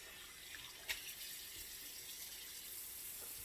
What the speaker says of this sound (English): I'm gonna catch some fresh water on it.